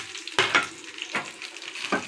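Chopped capsicum and onion fry in ghee over a low flame with a soft sizzle, broken by three distinct stirring scrapes of a spoon against the pan.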